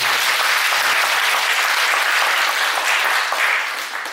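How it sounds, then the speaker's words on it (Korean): A church congregation claps loudly in thanks, dense sustained applause filling the room before tapering off at the end. "우리 다시 한번 하나님께 감사의 박수 올려드리겠습니다."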